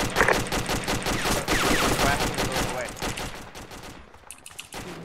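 Rapid, dense bursts of incoming gunfire and automatic weapons crackle in a military video game, loud and sustained before thinning out toward the end, with voices talking underneath.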